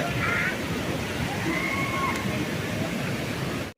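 Polluru waterfalls on the Andhra–Odisha border near Mothugudem, a steady broadband roar of falling water that stays constant, with faint voices in the background.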